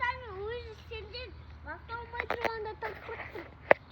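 A cat meows several times up close, with drawn-out rising and falling cries followed by shorter calls, while people talk nearby.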